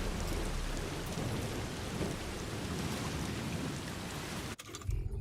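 Timefall rain in Death Stranding 2 pours as a dense, steady roar with low rumbling thunder underneath, continuous and loud before cutting off abruptly near the end.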